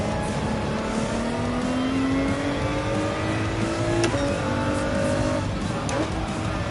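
A Ferrari race car in Gran Turismo 7 roars continuously at close range, its engine pitch climbing through the gears with brief shift dips, loud and unbroken with no talking.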